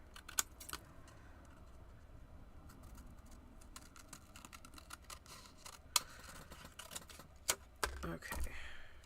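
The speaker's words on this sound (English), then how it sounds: "We're gonna do some scissoring here." Several crisp snipping cuts of scissors through paper, scattered and close, with soft handling rustle between them.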